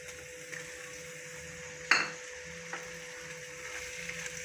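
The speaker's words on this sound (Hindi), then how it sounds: "ये हमारे लाइट ब्राउन हो चुके हैं प्याज, अब हम लोग इसके अंदर डाल रहे हैं गोश्त।" Meat sizzles in a pan with light brown onions for bhindi gosht, a steady close frying hiss with one sharp clatter of a utensil against the pan and a few soft stirring taps.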